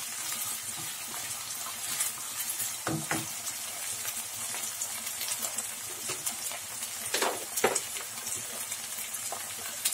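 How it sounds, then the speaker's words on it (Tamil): Tomatoes sauté in a pan for mutton botti kuzhambu, a constant close sizzle broken by a few sharp scrapes and clinks as they are stirred. "போட்டு நல்லா வதக்கிக்கணுங்க"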